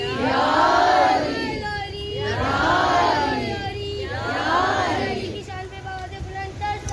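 A religious gathering (majlis for the Chehlum of Imam Hussain) answers a slogan with loud, rhythmic crowd chanting, three swelling shouted responses in a row, close and forceful, fading into murmur.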